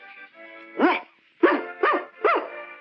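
A cartoon character voice imitates a dog barking, giving four loud, tonal woofs close up with a pause after the first, in a Rocket Robin Hood adventure.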